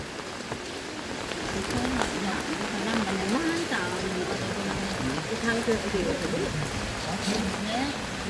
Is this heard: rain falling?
yes